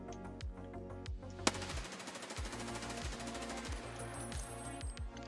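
Unsuppressed automatic gunfire in the Escape from Tarkov video game during a crouching recoil test, two loud, rapid bursts of closely spaced shots separated by a brief gap, with ringing echo behind each shot.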